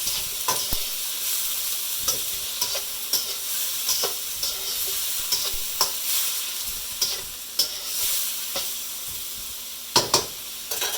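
Broccoli being stir-fried with ginger and garlic in a hot pan, a steady close sizzle and hiss broken by repeated scraping stir strokes at an uneven rhythm, with no talking.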